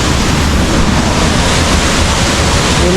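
A waterfall in Laguna, swollen after rain, pours as a loud, dense, unbroken roar that fills the whole moment with no pauses or voices.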